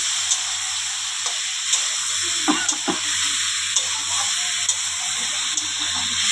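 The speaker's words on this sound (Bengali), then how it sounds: "আলুটা ভাজা হয়ে গেছে, এবার মাংসটা দিয়ে দেবো। এবার একটু লবণ, হলুদ একটু নাড়িয়ে নিই।" Meat and fried potatoes sizzle in a frying pan with salt and turmeric, a steady hiss broken by scraping stirs and a few sharp clicks of the spoon against the pan.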